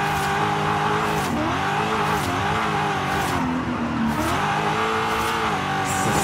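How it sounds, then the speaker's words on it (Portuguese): A BMW M2 drift car's engine revs hard and repeatedly while sliding through corners, loud rising and falling engine notes with tire noise between, close and without talk. "Minha nova BM aqui de drift"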